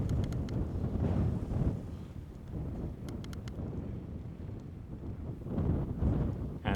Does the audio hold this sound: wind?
yes